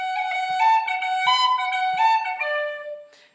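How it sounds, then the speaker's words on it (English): A melodic run of the Irish jig The Rambling Pitchfork on a bright, sustained instrument, with clear successive notes in a lilting rhythm that ends after a few seconds, played solo without talk. "sometimes you can hear the tune and it sounds like this."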